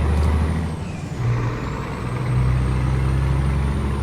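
Truck air brake in Euro Truck Simulator 2 hisses over a steady loud diesel engine drone, with a low rumbling idle and a faint high tone running throughout.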